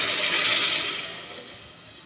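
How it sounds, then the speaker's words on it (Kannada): Water pours onto rice for depot rice bath, a steady rushing splash that lasts about two seconds and eases slightly toward the end, close by with no voices. "ಒಂದೂವರೆ ಚಮ್ ನೀರು ಹಾಕ್ತಾಯಿದ್ದೀನಿ"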